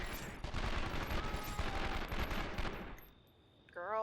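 Video game gunfire from 24: The Game, a dense, continuous stream of rapid shots for about three seconds before thinning out into a softer tail.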